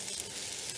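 Garlic sizzling in a hot pan with a steady, close crackle and hiss, no talk.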